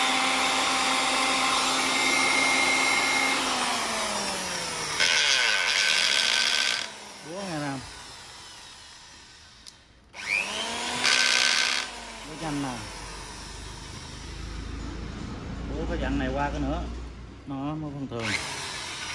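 A used Japanese 700W electric drill revs up and winds down several times, its motor pitch sweeping up and down between short pauses, with faint handling noises.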